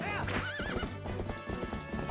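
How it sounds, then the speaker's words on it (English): Epona the horse gallops in a Zelda game, rapid hoofbeats under a shrill, high-pitched squeaking whinny that rises and warbles near the start, close and prominent, with a voice talking over it. "there's like a sound effect that's part of the Epona galloping around that's like this really high-pitched squeak"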